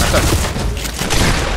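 Grenade launcher fire in a Fortnite Team Rumble match comes as dense, loud overlapping booms and blasts, a continuous barrage of explosive game gunfire with no clear voice over it.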